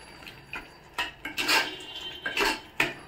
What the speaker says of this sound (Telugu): మన మసాలా పచ్చిది కాబట్టి ఇది బాగా మిక్స్ చేసుకోవాలి